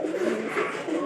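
A pigeon coos in its coop, a soft throaty rolling call heard up close and alone.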